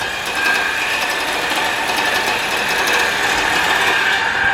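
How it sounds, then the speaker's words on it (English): A cutting tool drones steadily with a high, buzzing whine while the old exhaust is cut off a Ford Focus RS in a workshop, loud and continuous throughout. "They're getting the old exhaust out right now. So they're just cutting it out, getting it out."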